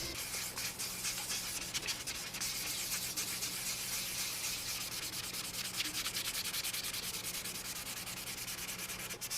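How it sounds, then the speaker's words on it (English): Continuous fine hand sanding of clear coat on carbon fiber with 2000-grit sandpaper, a steady close-up rubbing hiss with rapid back-and-forth strokes, no talking. "you can always just sand it out with 2000 grit"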